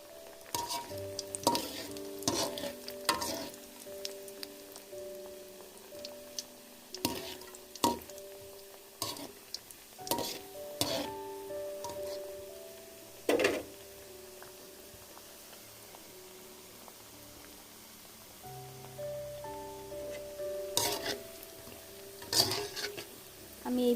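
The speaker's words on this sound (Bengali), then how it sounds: "এভাবে আমি সবগুলো পিঠা ভেজে নিব" Biscuit pitha cakes fry in hot oil with a soft steady sizzle, broken by frequent loud clatters and scrapes of a utensil against the pan, close and busy with no talking.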